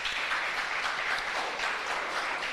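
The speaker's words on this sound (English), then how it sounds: "Clap her, man, clap her" Audience clapping for a child stepping up to address Parliament at an International Day for People of African Descent celebration, a brief, steady patter of many hands, moderately loud and unbroken.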